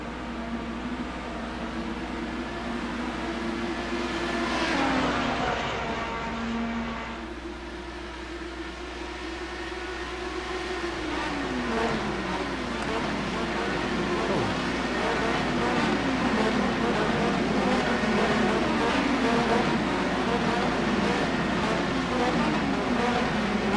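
Race car engines roaring through a Nürburgring GP race in the iRacing sim, a steady dense drone with pitch sweeps as cars shift and pass, with a commentator talking over it.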